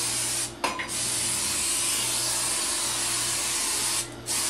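Lubricant sprayed onto a motorcycle tire while mounting it, a loud continuous hiss close by, briefly broken by two short pauses.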